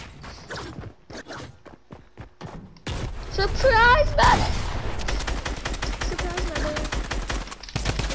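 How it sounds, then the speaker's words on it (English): A Tommy gun in Fortnite fires in a long, rapid burst, with loud close-up gunfire running for several seconds after some earlier talk and game sounds. "I wanted to Tommy gun you."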